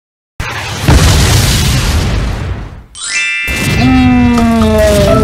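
A loud booming blast from Godzilla's power beam in a dinosaur-transforming CatNap Poppy Playtime game, a sustained roaring burst that cuts off, followed by bright ringing chime tones.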